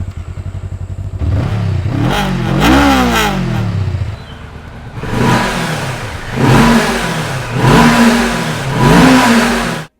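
Stock exhaust of a Honda Rebel 500 or Kawasaki Vulcan S cruiser motorcycle, starting and idling close by, then several sharp throttle revs rising and falling in a loud, repeated pattern.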